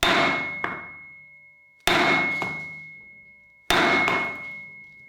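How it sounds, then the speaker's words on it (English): Three loud metallic whacks spaced about two seconds apart as a hammer strikes a piece of wood against a nut on a Honda CB250 motorcycle, each ringing out and decaying, with a faint secondary knock after each strike. "take a piece of wood and give it a good whack with a hammer"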